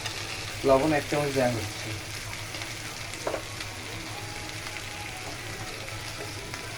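Potatoes sizzling in hot oil with cumin, a continuous crackling fry throughout, with a voice speaking briefly early on and a clink partway through.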